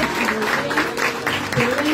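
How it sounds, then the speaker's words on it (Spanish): A graduation audience applauds steadily and densely throughout, with a voice carrying over the clapping. "Aplauso para las jóvenes."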